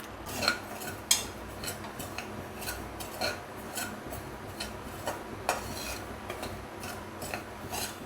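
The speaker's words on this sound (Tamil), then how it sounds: "இதை நம்ம அப்படியே வறுத்துக்கலாம் லேசான தீயில்" Wheat rava dry-roasting in a cooker on low flame, with a spatula scraping and clinking against the metal in irregular strokes, fairly quiet and close.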